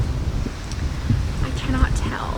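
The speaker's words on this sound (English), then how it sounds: "it is very windy" Wind buffets and rumbles across the microphone in a constant low roar, with faint voices underneath.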